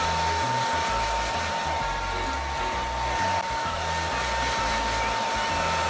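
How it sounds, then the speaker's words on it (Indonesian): A hair dryer blows in Hairdresser Simulator, a loud continuous whooshing roar with a steady tone, running alone throughout. "Ini gue hair dryer lu nih."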